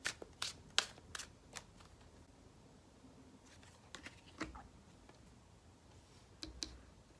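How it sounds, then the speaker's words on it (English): Tarot cards riffle and slap softly as a deck is shuffled and cards are pulled, a scattered series of sharp close clicks and flicks over a quiet room. "I'm gonna pull some more cards."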